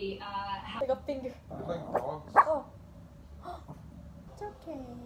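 A dog being pet sat for a day whimpers and gives a few short barks up close, with a sharp yelp near the middle, while people talk around it indoors at night.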